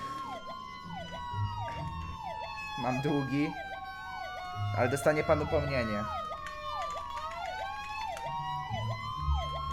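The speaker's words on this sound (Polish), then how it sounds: "Czemu to jeszcze straż pożarna jedzie?" A fire engine siren wails in Roblox Emergency Response: Liberty County, rising and falling in a repeating cycle throughout, with someone talking in Polish over it.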